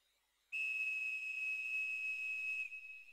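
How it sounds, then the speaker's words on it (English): A single steady, high-pitched whistle tone from the video game Dragon Quest IX sounds clearly for about two seconds, then cuts off, with no talking. "Oh, the whistle."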